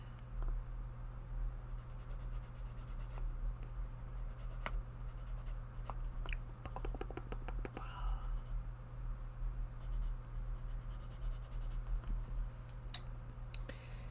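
Faint, steady scratching of colored pencils on paper over a low constant hum, with a few light clicks and taps.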